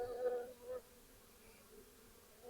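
Live honeybees from an opened hive mid mite treatment, a faint steady droning buzz that swells briefly near the start and again at the end, with no talk over it.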